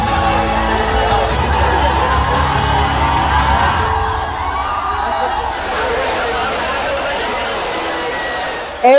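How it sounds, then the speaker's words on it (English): A large crowd of fans at a Shah Rukh Khan birthday gathering cheers, whoops and shouts in a loud, continuous roar that fades a little halfway, leaving excited chatter and distant yells. "Every year, the crowd grows louder."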